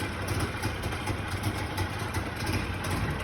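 A 1961 DKW car's small two-stroke engine idles right after a cold start in warm weather, a buzzy, steady, close putter with a slightly uneven pulsing rhythm and no voices.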